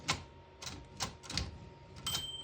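A 1923 Remington Portable Model 1 antique typewriter clacks through several sharp keystrokes at an uneven pace, close and fairly quiet, with a faint metallic ring as the keys lock at the margin.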